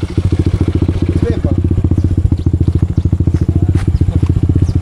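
A motorcycle engine with water in its carburetor runs steadily close by, a loud, rapid, regular thumping pulse that carries on throughout with no pause.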